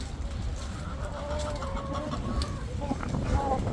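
Hens cluck and murmur inside a coop on a rainy, windy day, several soft overlapping calls over a steady background of rain and wind.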